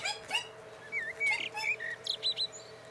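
An animal toy gives off a bird chirping sound, a series of short, thin tweets and trills, fairly quiet and heard alone without speech.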